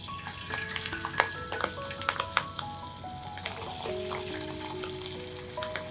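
Watercress coated in a potato starch and water batter deep-fries in oil at 170 degrees, giving a loud, steady close sizzle with crackling pops and bubbling throughout, no voices.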